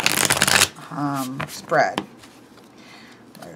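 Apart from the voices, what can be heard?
tarot cards shuffling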